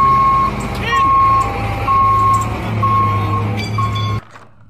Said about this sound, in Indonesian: kita menemukan truk molen teman-teman